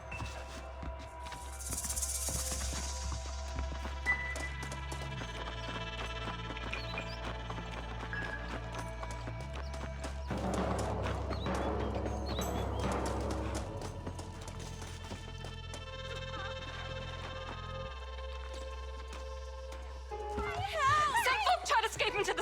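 Hooves of a ridden horse gallop in the Western game Red Dead Redemption, a steady rhythmic clatter running beneath layered game music and ambience, with a brief voice near the end.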